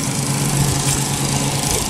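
A lawn mower engine runs close by in a residential street, giving a steady, loud droning hum with a low mechanical rumble that holds throughout without pause.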